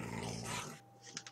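A dog in the Minecraft video game growls and snarls, a rough continuous rumble for most of the moment, then trailing off into a few short fainter game sounds.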